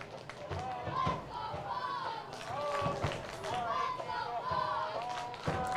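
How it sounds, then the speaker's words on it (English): Stadium crowd at a Flint City Bucks versus Kalamazoo FC soccer match, a steady roar of many voices with shouts rising and falling over a continuous hubbub. "The crowd now getting involved."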